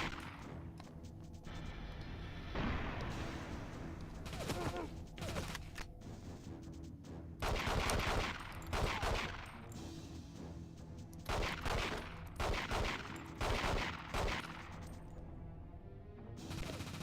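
Gunfire in the video game 007 The World Is Not Enough: rapid bursts of sharp shots and heavier cracks come in irregular clusters across a firefight, with clattering impacts and background game ambience, fairly quiet overall.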